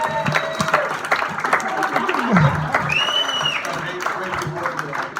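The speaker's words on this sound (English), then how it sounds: "Give her a round of applause." A crowd claps and cheers in a lively burst, with voices calling out and talk mixed through the applause, plus a brief high whistle.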